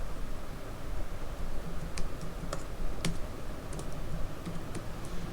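Names are typed on a computer keyboard into a Microsoft Word document, producing scattered, fairly faint key clicks in an uneven rhythm over a steady hiss of background noise.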